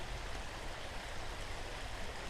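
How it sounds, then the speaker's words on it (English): Sober's Run Creek flowing alongside a trail in Jacobsburg State Park, Nazareth, Pennsylvania, a steady, even rush of water that stays constant throughout with no voices. "this is Sober's Run Creek, and it runs into Bushkill Creek"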